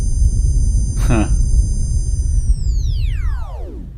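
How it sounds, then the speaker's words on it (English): A Ghostbusters proton pack powering up: a low rumble with a steady high-pitched electronic whine that sweeps sharply downward at the end, with a brief warbling zap in the middle. "That's the sound of the proton pack being fired up."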